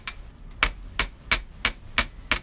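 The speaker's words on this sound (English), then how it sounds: "So, as I hammer," Six sharp hammer strikes land on metal wire at a steady pace while it is shaped and forged into beaded hairpins, each blow ringing bright and close with no voices.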